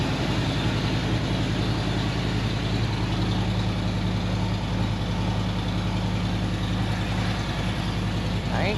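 A 2020 Harley-Davidson Ultra Limited fitted with a Fuel Moto Jackpot head pipe idles steadily, its low, throbbing exhaust rumble close and constant with no talk over it.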